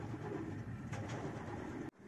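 Racing pigeons coo in a loft, low murmuring calls repeating steadily over a constant background hum, close and fairly loud, ending with an abrupt cut.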